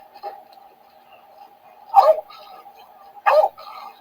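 A dog gives two or three short, sharp barks spaced a second or so apart over a steady faint hum, fairly close, with no one speaking between them.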